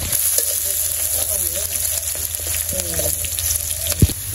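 Meat frying in hot oil crackles with a loud, dense, continuous sizzle up close, with stirring scrapes and a sharp clunk near the end.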